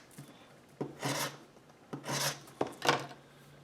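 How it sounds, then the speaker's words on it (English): A saw blade with rough teeth is scraped down a wooden edge in four rasping strokes, close and fairly quiet, each stroke a coarse gritty scrape separated by short pauses. "going to start by roughing up this edge. I've got a saw blade here with some rough teeth in it"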